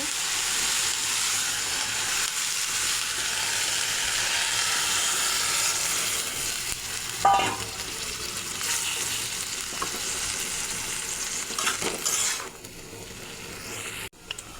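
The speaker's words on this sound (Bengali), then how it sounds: "এখন ঝোলের জন্য জল দিয়ে দেব।" Water hits a hot pan of cooked bottle gourd greens for a fish-head curry, bursting into loud sizzling and steamy frying that fades to a softer hiss, with a few scrapes of stirring.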